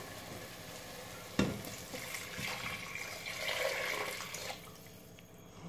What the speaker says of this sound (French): Et là, donc, je vais rajouter mon eau.